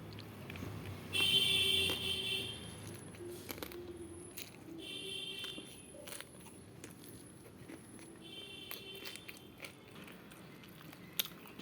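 Fried bitter gourd served with rice is chewed close up in a quiet room, soft crunching bites and moist mastication in uneven bursts, with a few faint clicks between them and no talking.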